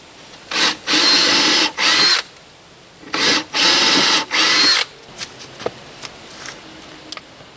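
A power drill pre-drills holes in wood for kitchen cabinets, whirring in repeated short bursts, two groups of three, loud and close, followed by light knocks and handling of wood.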